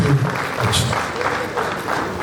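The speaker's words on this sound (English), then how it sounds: "that round of applause is not enough" Audience applause at a formal investiture ceremony for a planning institute branch chairman in Lagos, a steady broadband patter under a speaking voice.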